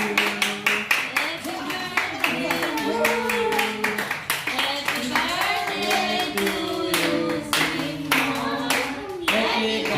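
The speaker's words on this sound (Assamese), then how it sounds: "হাত তালি মাৰা" Group of people clapping hands in steady rhythmic unison at a birthday celebration, sustained and fairly close, with voices chattering and singing underneath.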